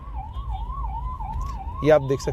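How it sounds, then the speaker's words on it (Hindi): A wailing ambulance siren sweeps up and down steadily in congested city traffic, loud and close, with a short burst of car horns and engine noise near the end. "पीछे से एम्बुलेंस आ रही है"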